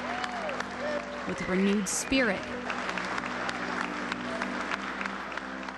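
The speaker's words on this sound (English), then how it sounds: "a standing ovation from the community, applauding the veterans who answered the call to save the world" Community applause and a standing ovation for returning Honor Flight veterans, a steady crowd clatter running throughout under a reporter's voice and the sound of other voices.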